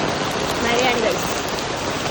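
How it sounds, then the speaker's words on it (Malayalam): Steady, dense rain falling and pattering on surfaces nearby, a continuous loud hiss with no breaks. "ഡ്യൂട്ടി കഴിഞ്ഞ് വന്നപ്പോൾ മഴ പെയ്യുന്നു ഗൈസ്. പെട്ടു മഴ."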